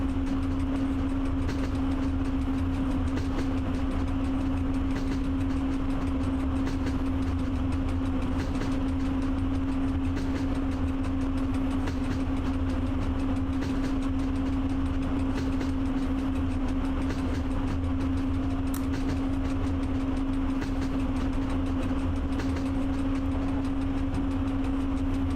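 Heavy freight locomotive from the game Train Driver 2 pulling a very heavy consist, a steady low engine drone with a constant tonal hum and rumbling rail noise, continuous and even throughout with no talking.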